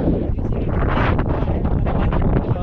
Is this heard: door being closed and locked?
no